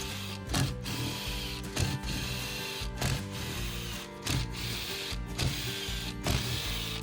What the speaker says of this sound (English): start removing the case bolts in preparation for splitting the cases